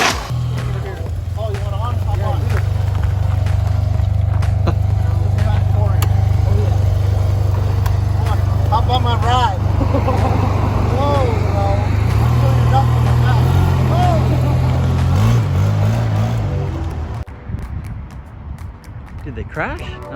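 A 1997 Yamaha Zuma scooter riding along, its steady low engine drone continuous for most of the stretch with people talking over it, then easing off near the end.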